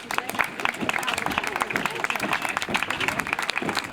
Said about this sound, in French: les pompiers ont défilé dans le centre de Vouvant, applaudis par les habitants